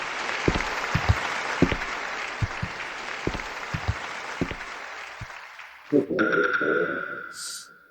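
Applause from an audience welcoming a performer onto a stage: a crowd claps steadily with some sharper individual claps, then it fades and gives way to a different short tonal sound.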